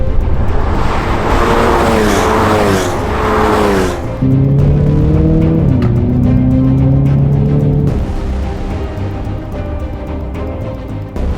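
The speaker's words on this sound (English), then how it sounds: "This is the Elantra N, and we're at Atlanta Motorsports Park to put this thing through its paces." A 2022 Hyundai Elantra N is driven hard around Atlanta Motorsports Park, its engine loud and near as it climbs through the revs, with distinct gear shifts and some tire noise over about eleven seconds.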